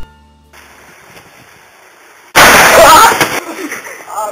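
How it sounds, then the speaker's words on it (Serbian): Firecrackers go off outdoors, a sudden loud blast bursting in after a quiet stretch, followed by a rumbling, crackling tail that slowly fades. "Ne, dobre su to petarde"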